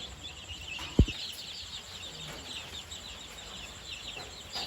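Domestic chickens on a farm flock of nearly two hundred birds cluck softly at feeding time, with a sharp knock near the start and a low steady background hum.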